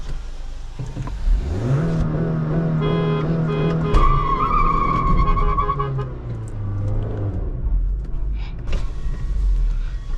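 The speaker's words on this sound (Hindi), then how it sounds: "फिसल गई गाड़ी एकदम यूं।" Tyres skid loudly during a drag race between a Hyundai Verna 1.5L diesel and a Honda City 1.5L petrol, a close, sustained squeal with engine revving, fading out after several seconds.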